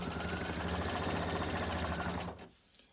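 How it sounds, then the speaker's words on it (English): A sewing machine runs steadily and close up, stitching a quarter-inch seam across quilt binding in a fast even rhythm for a couple of seconds before stopping. "So I'm just going to start sewing a 1/4 inch seam across the binding."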